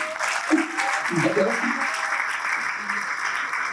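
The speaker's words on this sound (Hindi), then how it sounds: "इतना बढ़िया डायलॉग मैंने बोला तो मुझे ताली बजा देनी चाहिए थी।" A crowd at a music video launch event claps in a continuous, moderately loud wash while voices speak intermittently over it.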